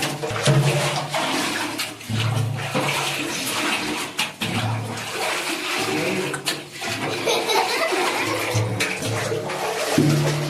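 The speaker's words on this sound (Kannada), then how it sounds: "पानी पूरा खाली कर रहा है" Dirty water rushes out as a water tank is emptied, a loud continuous gushing and splashing close by that surges and dips without a break.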